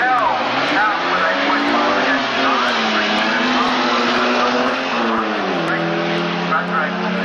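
A fuel-injected Mazda rotary drag race car at Ravenswood Raceway roars down the drag strip, its loud, steady engine note rising and dipping through gear changes, heard close with commentary talk over it.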